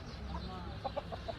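An Aseel rooster gives a few short, soft clucks in a quick uneven series, faint over steady low background noise.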